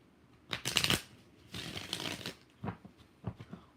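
Tarot cards being shuffled by hand, a few quick riffling bursts with pauses between them, close and fairly loud with no talking.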